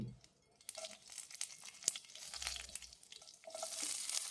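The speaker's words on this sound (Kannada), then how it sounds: "ಒಂದು ಐದರಿಂದ ಆರು ಟೇಬಲ್ ಸ್ಪೂನ್ ಎಣ್ಣೆ ಹಾಕ್ಕೊಳ್ತಾ ಇದ್ದೀನಿ ಅದಕ್ಕೆ ಸಾಸಿವೆ ಸ್ವಲ್ಪ ಕರಿಬೇವು ಮತ್ತು ಒಣಮೆಣಸಿನ್ಕಾಯಿ" Mustard seeds, curry leaves and dry red chillies tempering in about five to six tablespoons of hot oil for bisi bele bath, giving a faint, uneven crackle and sputter that swells and fades, with occasional rustling.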